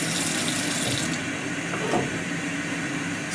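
Water running steadily from a sink tap in a darkroom while stop bath is poured down the drain, a continuous close splashing rush with slight fluctuations and no talking.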